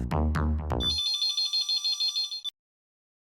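A phone call rings through a speakerphone: a few loud, bright tones, then a sustained electronic ringing pattern that cuts off abruptly into silence.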